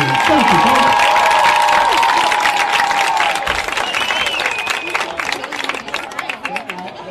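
Spectators at a high school football game break into sustained applause and cheering, a dense wash of clapping and crowd noise that gradually thins out toward the end.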